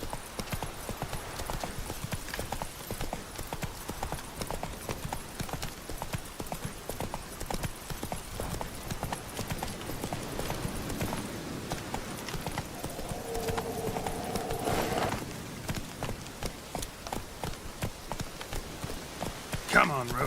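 The horse Roach gallops in The Witcher 3: Wild Hunt, with rapid, steady hoofbeats that keep going throughout over a game soundscape.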